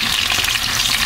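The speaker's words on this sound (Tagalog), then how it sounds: "Yun, prito po muna natin to kahit konti lang. Yung ating mga isda." Fish frying in a pan, a loud, steady close-up sizzle and crackle of hot oil with no pauses or voices.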